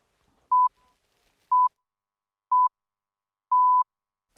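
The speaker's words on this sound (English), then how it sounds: "after the beeps, the pips" Four clean radio news time-signal pips sound one second apart, the last held longer, alone against silence before a New Zealand afternoon news bulletin.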